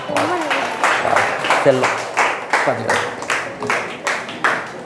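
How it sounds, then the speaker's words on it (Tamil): An audience claps at a Kamba Ramayanam discourse, with a voice speaking at first, then a run of regular, fairly close clapping bursts in a steady rhythm. "கைத்தட்டல் சொல்லுங்கப்பா"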